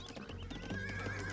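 A horse in the video game Age of Empires II DE lets out a short, faint neigh, with soft hoof clip-clops underneath, lasting only about a second.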